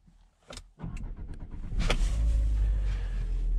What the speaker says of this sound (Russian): а теперь давайте произведем запуск автомобиля.